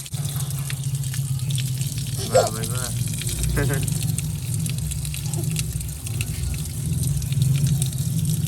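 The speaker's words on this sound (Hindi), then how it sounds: "अब टूटी बंद कर दो, पानी जाया हो रहा है" Tap water runs steadily during a child's bath at home, a constant close rushing hiss that lasts throughout while someone speaks briefly over it.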